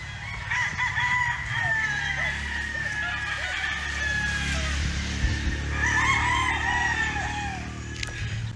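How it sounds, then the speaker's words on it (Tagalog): Chickens and roosters on a neighbouring farm crow repeatedly, with overlapping calls and clucking from several birds at moderate distance amid a busy outdoor background. "Daming manukan sa kapitbahay nila."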